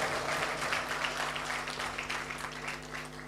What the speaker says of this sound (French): Applaudissez pour ce jeune homme